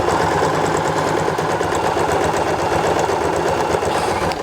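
A sewing machine stitches binding onto a fabric diaper holder, its needle running in a fast, even, close rhythmic whir without pause and with no talk.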